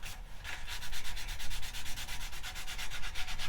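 A sander works a pine wood cross on a lathe, giving a close, loud rhythmic rasping that pulses in quick even strokes, steady throughout with no voices.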